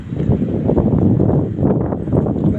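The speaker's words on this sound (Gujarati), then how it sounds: "પવન છે" Gusty wind buffets the microphone on a cold evening walk outdoors, a loud, rough, continuous rumble that surges and dips over a few seconds.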